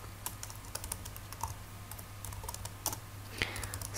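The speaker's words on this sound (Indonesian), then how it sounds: "Selanjutnya saya akan mengetikkan perintah untuk masuk ke lokasi bin SAM saya" A command being typed on a computer keyboard at a desk, steady close key clicks in an irregular run with a faint hum underneath and no talking.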